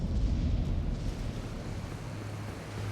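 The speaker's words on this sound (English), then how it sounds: "So it acts like an odd delayed reaction explosion laser as well as regular fire breath" A deep rumbling blast from a delayed explosion following a fire breath attack in the video game Elden Ring, a heavy low roar that swells and slowly fades over a few seconds without speech.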